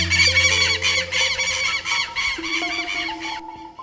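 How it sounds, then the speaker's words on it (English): A hoatzin calls with harsh, raspy, goose-like honks and squawks in a quick repeated series, close and fairly loud, with no talk over it. "Its name is derived from the indigenous word Hoatzin, which refers to the bird's distinctive call."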